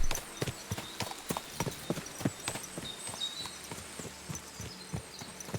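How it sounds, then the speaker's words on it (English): A horse in Kingdom Come: Deliverance 2 walks at a slow pace over rough terrain. Its hooves clip-clop in a steady rhythm, close and clear, over quiet outdoor ambience. "My horse doesn't like being pushed on this terrain."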